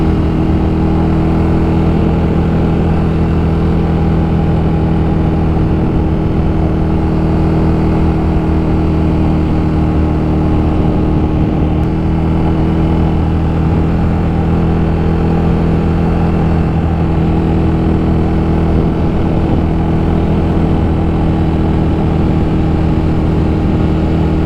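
A KTM Super Duke motorcycle rips through canyon roads, its engine a loud, constant droning rumble mixed with steady wind rush for the whole stretch, no pauses or shifts standing out.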